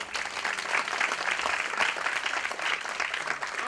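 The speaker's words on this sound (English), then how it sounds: "I would request everyone to give a round of applause for the jury and participants" An auditorium audience at an idea pitch event gives a round of applause for the jury and participants, with dense, even clapping that stays steady for several seconds.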